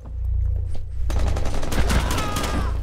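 Gunfire in the Rainbow Six Siege video game: a few sparse shots, then a loud, rapid burst of automatic fire with dense crackling over a low steady hum.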